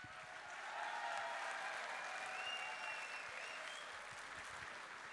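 Faint, distant applause from a crowd at a political rally in Den Bosch, a soft continuous patter of clapping that swells slightly and holds for several seconds.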